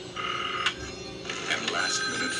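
A telephone rings in a horror film trailer, with a bell-like tone sounding in a few short bursts under and between voices.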